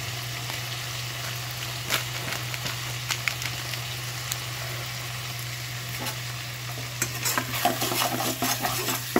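Cumin and coriander powder frying with vegetables for a vegetarian navratan korma, a soft steady sizzle with intermittent spoon scrapes and clinks against the pan, plus a constant low hum underneath.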